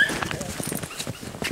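Dogs whimper outdoors up north, giving thin, brief whines scattered among soft rustling and shuffling, moderately close and not very loud.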